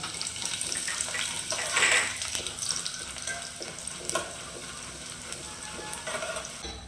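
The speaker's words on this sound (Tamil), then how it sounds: "கடலப்பயிறு காஞ்ச மிளகாய் இது ரெண்டையும் சேர்த்து வறுத்துக்கலாம்" Chana dal and dried red chilies fry in hot oil in a pan, giving a steady crackling sizzle with a brief louder burst of stirring partway through.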